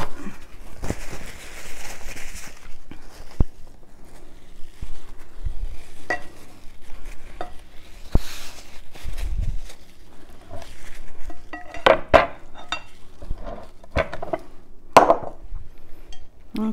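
Dishes get cleaned after a rotisserie chicken pasta salad is made, with scattered sharp clinks and taps of utensils against a plate and bowl and occasional scraping, close and irregular with no talking.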